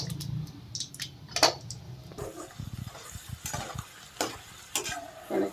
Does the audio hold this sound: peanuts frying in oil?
yes